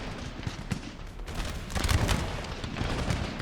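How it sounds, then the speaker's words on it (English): Musket volley fire from firelock-armed troops in Empire: Total War, a dense crackle of overlapping shots rolling on continuously, loud and close, with no talk. "And we can begin opening fire."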